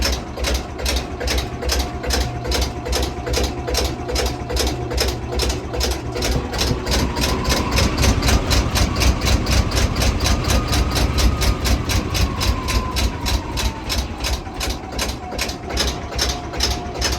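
A narrowboat's diesel engine idles with cold oil, a steady, loud, close-up chug that keeps an even mechanical rhythm throughout, swelling slightly midway and with no talking.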